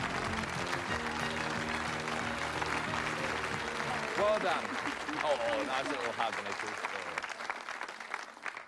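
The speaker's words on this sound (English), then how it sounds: "let's give a nice round of applause" A studio audience at a 1990 TV game show applauds in a sustained, even wash of clapping beneath music and a host talking over it.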